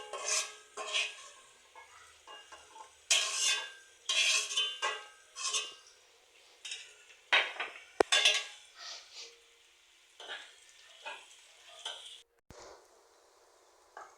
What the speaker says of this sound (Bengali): ধনিয়া পাতা দিয়ে নেড়ে চেড়ে নামাই নিচ্ছি